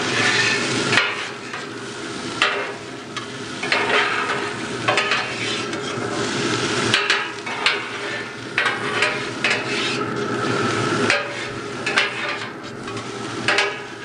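Eggs and vegetables for a Thai dish are stir-fried together on a griddle insert on a barbecue, with a constant close sizzle under repeated scraping and tapping of a spatula against the metal surface.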